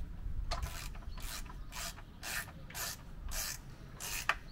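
A ratchet tightens the four spring plate bolts on an MGB front suspension, giving close, regular bursts of rapid clicking with short pauses between strokes and no talk.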